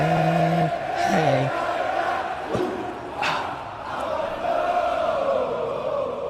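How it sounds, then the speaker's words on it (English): A wrestling arena crowd sings a chant together at a WWE SmackDown show, a broad, echoing mass of voices rising and falling in a loose rhythm, with brief louder swells. "So the crowd were singing."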